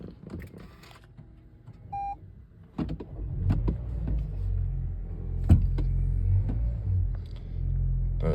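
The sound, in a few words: Toyota C-HR engine starting and running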